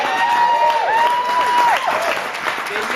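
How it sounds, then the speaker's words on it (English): Applause at a Burns supper toast to the lassies, thanking the women for the meal, a steady wash of clapping from a dinner crowd with a few whistle-like tones over it, fading slightly toward the end. "let us start with applause for this food that we have before us"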